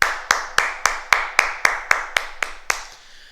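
A group claps together in unison at a martial arts class, about eleven sharp, evenly spaced claps at a steady beat, close and loud, slowing slightly and fading toward the end.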